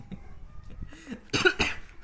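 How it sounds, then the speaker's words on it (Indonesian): Two sharp coughs in quick succession, close and fairly loud, following a stretch of quiet low murmur in an online workshop setting. "Sampai batuk."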